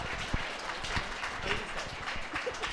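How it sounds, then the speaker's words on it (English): An audience at a rally for direct care workers applauding, a dense continuous patter of clapping hands filling the space at moderate loudness, with a few sharper individual claps standing out. "Let's give Wendy another big round of applause."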